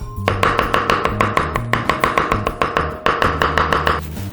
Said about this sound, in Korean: 칼로 이렇게 해서 다져서 좀 준비를 하겠습니다.